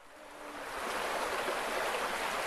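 A river rushes steadily beside a gorge walking track, a broad continuous roar of flowing water that swells slightly and holds loud and close throughout, with no voices.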